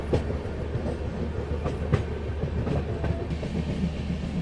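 Bhopal Shatabdi Express rolling along the rails, a steady loud rumble from inside the train with rhythmic clicks of wheels over rail joints throughout.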